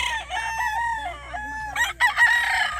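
A gamefowl broodcock rooster crows loudly and close by, the call rising and wavering for nearly three seconds and ending in a few short clucks, with no talk over it.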